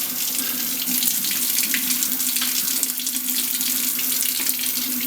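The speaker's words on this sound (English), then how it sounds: "I'm also going to go ahead and use this little sprayer nozzle here." A kitchen sink sprayer nozzle blasts water over cooked ground beef to rinse off the grease, a loud, steady hiss of spray that runs unbroken from start to finish with no talking.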